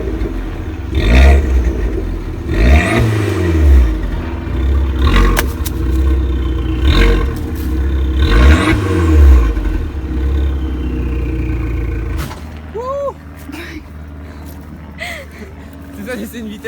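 An Abarth 595 engine is revved hard several times in a row, each throttle blip rising and falling in a loud, close roar. The engine then drops to a quieter idle while faint chirps sound in the background.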